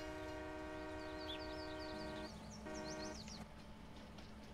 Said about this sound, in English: There's a train that's constantly running.